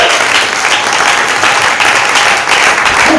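A church congregation bursts into steady, dense applause during a sermon, a continuous wash of many hands clapping together that fills the room at full volume without a break.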